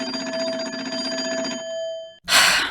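A coin phone on a porch rings in the Nancy Drew game The Secret of the Old Clock, one steady bell-like electronic ring lasting about two seconds before it is cut off by a sharp noisy click.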